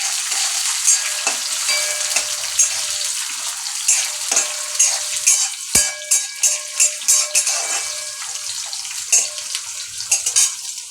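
Tomatoes fry with green chillies in a pan, producing a bright, loud, steady sizzle up close, punctuated by a run of quick spatula taps and scrapes in the second half.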